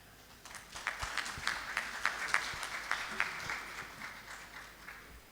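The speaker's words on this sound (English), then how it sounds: "I don't know what you said that got even the ministers clapping" Sparse, scattered clapping from a ministerial panel audience at a conference, individual claps distinct and fairly even in rhythm, moderately loud in a large hall with faint background murmur.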